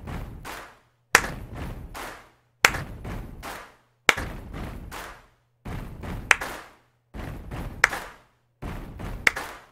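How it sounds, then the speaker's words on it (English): Sharp hand claps into a GameCube microphone while playing Donkey Konga, coming in seven short bursts of several quick claps each, with silent pauses between the bursts. "only you just have to clap"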